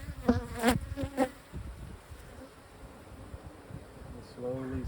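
Honeybees buzz during a hive inspection, a close, steady droning hum with a few louder swells as bees pass near.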